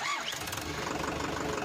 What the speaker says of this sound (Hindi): चलो अब जल्दी से ट्रैक्टर लेकर चलो और